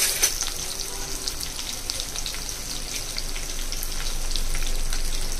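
Onions fry in a pan at the start of cooking bisibele bath, giving a close, steady sizzle with fine spattering crackles that swells slightly louder toward the end, without speech.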